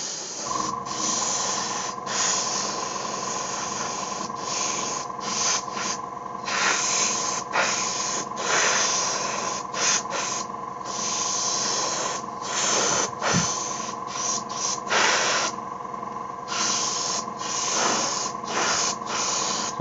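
An airbrush compressor runs while paint is sprayed onto Zone Mortalis terrain, giving a loud, steady hiss with a constant hum beneath it and brief dips where the spraying pauses. No one speaks.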